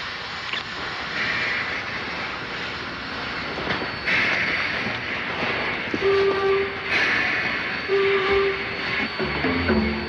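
A train rumbles steadily along the rails with a continuous clatter, a few faint metallic squeals and clicks rising over the noise.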